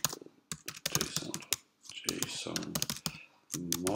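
Computer keyboard typing while writing OpenUI5 code, quick bursts of clacking keystrokes with short pauses, fairly close, mixed in with breathy mouth noises and short vocal sounds.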